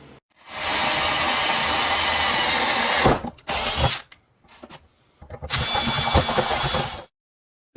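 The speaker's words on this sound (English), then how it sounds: "so now we're going to start drilling our holes and fitting this thing together." A power drill bores holes in steel crash bar brackets for a motorcycle highway peg build, whining loudly and steadily in two long close bursts separated by brief pauses and a short spin in between.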